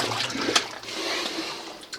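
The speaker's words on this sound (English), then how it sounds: "As I'm walking in there, all these bubbles are coming up." Bubbles rise through water around boots in a flooded mine, a continuous watery gurgle and wash that stays fairly loud throughout with no talking.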